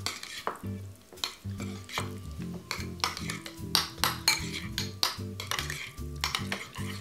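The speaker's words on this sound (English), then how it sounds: "So now that we have our ricotta seasoned, just mix all these ingredients to combine." Seasoned ricotta cheese mixed with olive oil, salt and pepper is stirred in a bowl. A utensil clinks and scrapes in a quick, steady rhythm, close and fairly quiet, with no voices.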